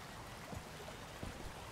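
A flowing stream in the video game Robin Hood: Sherwood Builders gives a quiet, continuous watery rush with faint trickles, steady throughout and heard alone.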